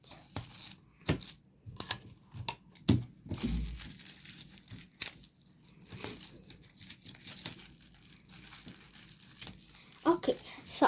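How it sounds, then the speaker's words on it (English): Tape being pulled and pressed onto a handmade watermelon fidget toy, giving close, crinkly tearing and crumpling bursts in irregular clusters, with a voice speaking now and then. "Tape it."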